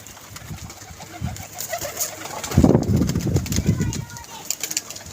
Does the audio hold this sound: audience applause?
no